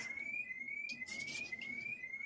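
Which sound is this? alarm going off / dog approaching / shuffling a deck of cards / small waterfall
alarm going off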